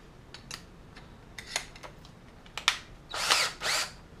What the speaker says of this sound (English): So, let me get my drill.